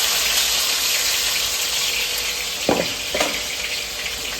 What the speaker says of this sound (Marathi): याच्यामध्ये टाकते कांदा टॅमॅटो